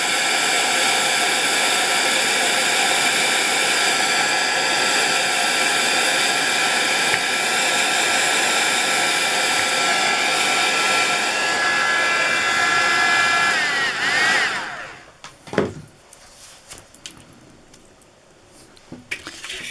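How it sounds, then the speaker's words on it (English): Heat tool blowing on a rice paper craft piece: loud, continuous whooshing hiss for about fourteen seconds, then cut off, followed by faint handling clatter and quiet room noise. "Give it a waft with the heat tool."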